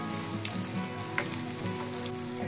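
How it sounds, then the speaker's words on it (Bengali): Chicken cheese rolls deep-frying together in hot oil, giving a dense, steady sizzle and crackle with tiny popping bursts, close and continuous, without speech. "4টে রোলই একসাথে আমি দিয়ে দিয়েছি। খুব ভালো করে ফ্রাই করে নেব।"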